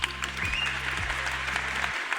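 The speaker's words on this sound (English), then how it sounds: "Give her a round of applause." An audience applauds steadily for a couple of seconds, dense clapping over a low hum, then the noise drops away abruptly.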